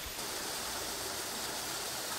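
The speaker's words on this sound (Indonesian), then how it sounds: "Dan ini dia air terjun mini yang aku maksud tadi" Steady, broadband rush of a small waterfall with clear water at Penawangan Srunggo in Imogiri, Bantul, heard close and continuous with no voices.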